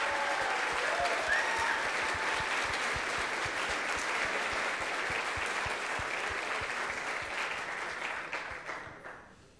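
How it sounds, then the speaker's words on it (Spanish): Hall-wide applause for a Dominican university team at the ICPC Latin America closing ceremony: dense clapping with some distinct nearby claps, holding steady, then thinning and tapering off at the end. "También un aplauso para el equipo Warriors of de la Universidad Abierta para Adultos"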